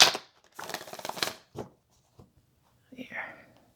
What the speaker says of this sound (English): I'm going to shuffle them a little bit.